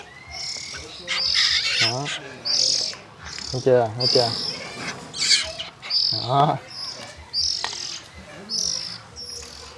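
Oriental magpie-robin chicks chirp and squawk in close, repeated bursts of shrill, rapid calls. Someone speaks briefly between the bursts.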